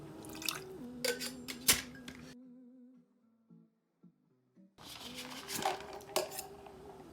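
Lemon juice poured while mixing a White Lady cocktail at a bar, with quiet trickling between clinks of glass and utensils; brief clattering bursts before and after a near-silent stretch.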